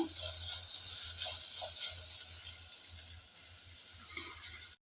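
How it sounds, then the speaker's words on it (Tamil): Onions and avaram flowers sautéing in a pan give a continuous bright sizzle close by, with faint stirring scrapes and a low rhythmic pulsing underneath, fading out at the very end. "வெங்காயம் வதங்கினதுக்கப்புறம் எடுத்துருக்கிற ஆவாரம்பூ சேர்த்துக்கலாங்க"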